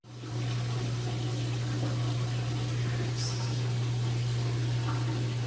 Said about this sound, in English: So I'm starting with the 55 and siphoning using the Python and also the bucket.